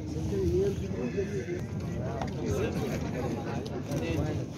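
Horses neigh and whinny amid hoof clatter at the busy Nookat horse market, with people chattering throughout.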